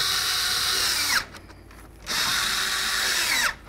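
A power drill snugs the side mirror mounting bolts on a 2006-10 Dodge Charger, whirring in two loud, steady bursts with a short pause between them, then cutting off briefly at the end.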